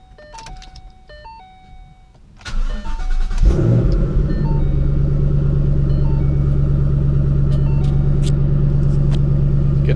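A Ford Mustang GT350 or GT500 engine cranks and fires into a rumbling idle after a few soft electronic chimes, settling into a loud, steady near-field drone.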